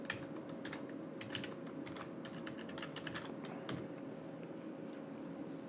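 A password is tapped out on a computer keyboard in quick, irregular clicks of keys, moderately close over a steady low electrical hum.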